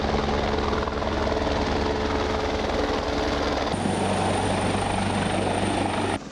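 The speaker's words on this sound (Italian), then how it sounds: "l'elicottero della Protezione Civile, lo vedete che pesca acqua dal bacino del Timavo" A civil protection helicopter scoops water from the Timavo basin to fight a wildfire; its loud, continuous rotor and engine thrum fills the whole stretch, with a shift in pitch partway through and no talk.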